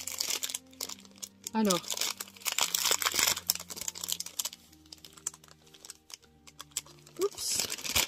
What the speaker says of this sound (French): Je vais quand même le déballer pour le prendre en main.